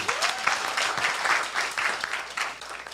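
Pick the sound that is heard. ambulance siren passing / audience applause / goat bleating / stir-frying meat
audience applause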